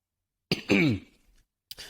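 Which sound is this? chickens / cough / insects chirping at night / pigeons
cough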